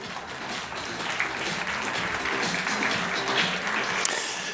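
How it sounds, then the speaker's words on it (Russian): An audience claps at a panel discussion on brand communication, a steady wash of applause at moderate distance with no voices. "Ваши аплодисменты."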